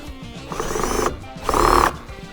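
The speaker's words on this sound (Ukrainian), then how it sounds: "Шуруповерт пішов в захист. Пробуємо докрутити." A Dnipro-M CD-218 cordless screwdriver driving a screw, its overload clutch slipping in two loud grinding, rattling bursts about half a second each, close up.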